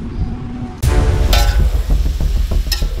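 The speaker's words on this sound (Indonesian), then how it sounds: "tahu dicelupkan ke dalam adonan tepung terigu cair, baru digoreng hingga kecoklatan" Battered tofu frying in hot oil, with a steady loud sizzle and crackle and some clanks of a utensil against the pan as the pieces are stirred.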